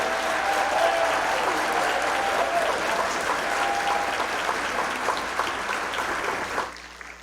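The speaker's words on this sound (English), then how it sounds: "Let's give it a round of applause for the best school board in the nation" An audience at a school district State of the District address applauds the school board with sustained, even clapping that fades out abruptly near the end.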